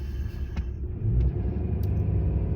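Car engine and road rumble while driving with a leaf trailer in tow, a steady low drone that holds throughout and swells slightly midway, with no talk.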